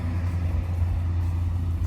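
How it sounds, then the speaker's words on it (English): A school bus rumbles past at close range, a low, steady engine drone lasting under two seconds with no voices. "The school bus just drove by"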